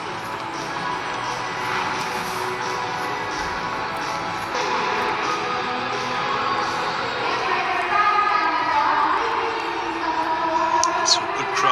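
A stadium crowd at the India vs New Zealand Champions Trophy cricket final keeps up a steady roar and murmur that swells louder toward the end. A commentator talks over it.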